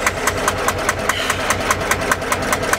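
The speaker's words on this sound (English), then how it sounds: "Nothing beats a marine diesel, Maya." Sabb 10hp marine diesel boat engine running at a steady idle, with a loud, even, rhythmic knock of evenly spaced beats close by.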